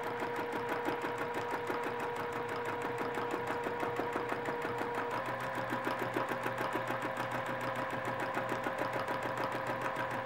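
A sewing machine hums and clatters steadily during free-motion quilting, its needle pounding in a fast, even rhythm for the whole stretch, close and unbroken.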